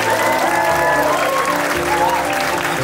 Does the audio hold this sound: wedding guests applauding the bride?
yes